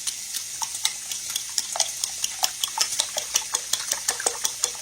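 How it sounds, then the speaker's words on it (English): Eggs beaten with a fork in a bowl, a quick rhythmic series of light clinking taps and sloshing strokes, close and steady with no talking. "Remember to beat your eggs like this because you want air in it."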